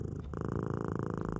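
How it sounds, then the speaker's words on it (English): A domestic cat purrs steadily and close up, a low rhythmic rumble that continues alone for the whole stretch after a brief soft shift at the start. "A cat's purr is one of the most comforting sounds, often associated with contentment."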